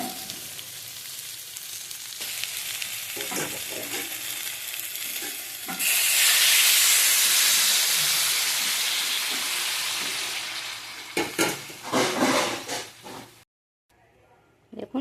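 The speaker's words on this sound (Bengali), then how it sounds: "এখন কিন্তু কষানো হয়ে গেছে, আর একটু কষাবো।" Raw jackfruit curry being sautéed in a pan, with scattered stirring scrapes and a loud sustained sizzle in the middle, then clattering stirs before the sound cuts out; a voice speaks at times.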